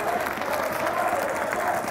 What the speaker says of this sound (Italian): Il Como sta prendendo gli applausi del suo pubblico